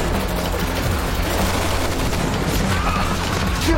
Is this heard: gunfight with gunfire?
yes